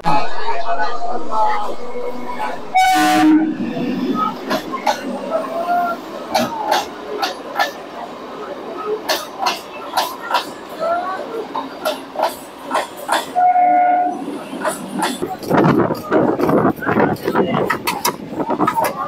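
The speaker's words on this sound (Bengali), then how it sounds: "ট্রেন কিন্তু ছেড়ে দিল ঠিক 9:15-য় লক্ষ্মীকান্তপুর থেকে, বোর্ড চেঞ্জ করে আবার যাচ্ছে নামখানার দিকে" A local train runs from Lakshmikantapur toward Namkhana, with a steady rumble and irregular metallic clicks and clatter from the carriages, and voices chattering in the background throughout.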